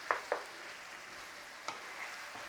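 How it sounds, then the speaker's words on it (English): Vegetables frying in a pan with a crumbled stock cube as a spoon stirs them through, a soft steady sizzle broken by two quick scraping knocks at the start and another later, quiet and close. "Give it a little stir through."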